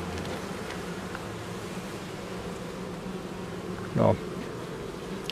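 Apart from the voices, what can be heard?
honey bees buzzing in a hive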